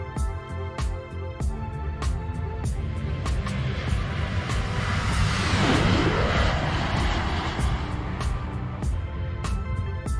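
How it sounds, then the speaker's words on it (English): A simulated aircraft from an X-Plane 12 flight simulator sound pack roars past in a flyby, a broad, steady engine wash that swells and sweeps down in pitch mid-pass, then drones on loudly with no voices. "I love the flyby sound in this sound pack"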